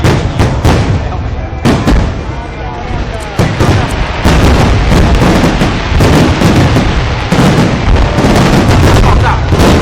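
New Year's Eve fireworks in Hualien, a loud, dense run of booming bursts and crackling explosions, one after another with almost no pause, with voices under the din.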